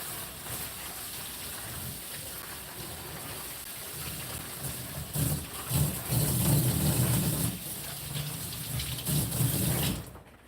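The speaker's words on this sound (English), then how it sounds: "Let me wash my hands off." Tap water runs steadily while hands are washed, a continuous broadband splashing rush that thickens in the middle and cuts off abruptly at the end.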